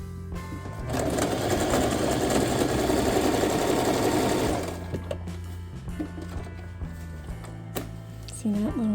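A sewing machine stitching a beeswax bread bag runs in one steady whirring burst for several seconds, then stops, leaving quieter handling noises and a brief voice near the end.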